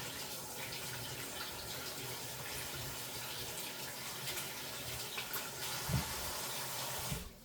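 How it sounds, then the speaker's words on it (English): Tap water runs steadily into a sink as hands are washed during bread baking, a constant close gush with a few brief splashes and no talking. "Let me wash my hands again so I can get into the cheese."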